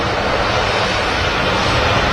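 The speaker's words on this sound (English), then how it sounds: "we have an Aer Lingus A330 on the taxi out at the moment" Aer Lingus Airbus A330 airliner taxiing at Manchester Airport, a steady, loud broadband engine roar that holds evenly throughout without a break.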